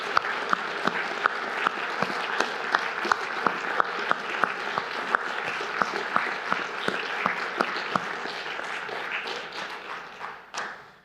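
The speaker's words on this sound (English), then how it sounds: "can we give all of the performers, participants, readers, players, a huge round of applause, please?" A church congregation applauds the performers, readers and players at a Christmas carol service, steady clapping filling the room for about ten seconds with a few sharper claps standing out, then fading away at the end.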